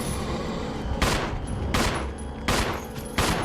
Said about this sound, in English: the pistol sound effect was actually in the older gameplay videos